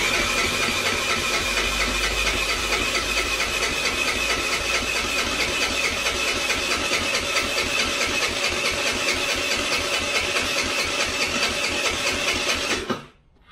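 A GY6 139QMB four-stroke scooter engine is cranked continuously by a starter motor, a fast rhythmic whirring churn held steady and loud for many seconds before it abruptly stops.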